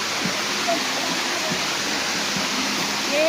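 Balete Falls rushes in a steady broad roar of falling water, loud and continuous, with faint voices underneath.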